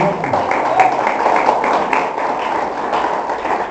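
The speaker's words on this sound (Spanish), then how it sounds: "Denle un aplauso a nosotros." A church congregation applauds together, a dense, steady wash of clapping that holds for several seconds, with voices mixed in.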